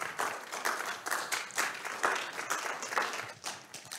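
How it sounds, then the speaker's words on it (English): Theater audience applauding, a steady round of individual claps with distinct sharp hits, fairly close and continuous with no talk over it. "Round of applause."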